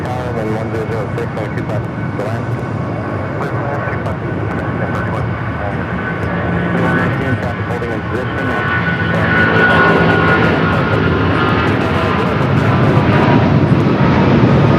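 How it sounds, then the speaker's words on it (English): An American Airlines Boeing 787 takes off at LAX, its broad engine roar building steadily and swelling louder toward the end, with voices talking over it throughout. "This is American Airlines 787 taking off to Miami"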